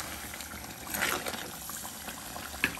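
Prawn curry bubbles in a clay pot, a soft, steady simmering hiss with faint popping, heard close for a few seconds.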